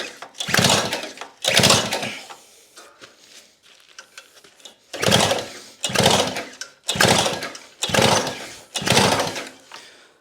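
A Victa two-stroke go-kart engine is pull-started repeatedly, about seven sharp rasping bursts of the recoil cord in two groups, each a quick cranking whirr that fails to catch, with brief quiet gaps between.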